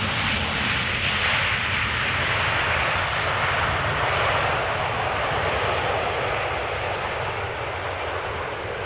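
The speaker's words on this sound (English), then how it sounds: "Only a tiniest bit of reversers." An airliner landing at Amsterdam Schiphol with only light reverse thrust, a loud, steady broadband jet roar that holds for the whole stretch and eases slightly toward the end, heard alone without voices.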